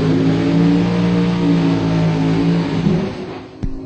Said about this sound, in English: Thing sounds like a Top Fuel car almost.